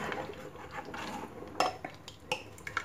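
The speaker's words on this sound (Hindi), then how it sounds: "अब हम इसमें जो हमने गोश्त पकाया है उसको मिलाते हैं।" A spoon scrapes and knocks against a cooking pot as cooked mutton is stirred into thick UP-style Lucknow khichda, giving a few sharp metallic clinks over a soft, continuous scraping.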